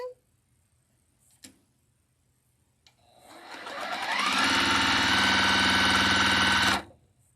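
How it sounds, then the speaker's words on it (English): A couple of faint clicks, then a sewing machine whirs up to speed stitching quilt half square triangles, running steadily and loudly for a few seconds before stopping abruptly. "Can you hear the sewing machine?"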